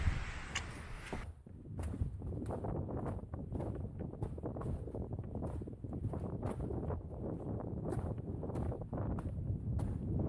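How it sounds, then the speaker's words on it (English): Strong, gusty wind buffets the microphone on a hike through Cathedral Valley in Capitol Reef. It forms a continuous low rumble, with faint rhythmic footstep-like crunches underneath. No one speaks. "The wind is just crazy today."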